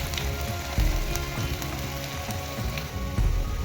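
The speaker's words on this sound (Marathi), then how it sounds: "इथं बघा आपला कांदा आरतीला भाजलेला आहे" Chopped onion frying in a pan for a potato filling for masala dosa, giving a steady, close crackling sizzle with small pops and no voices.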